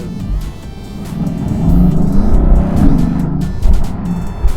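A Mercedes-AMG GLC63 S Coupé engine and exhaust sound off during a test drive in France, a deep, bassy rumble that swells and eases steadily, heard close without talk.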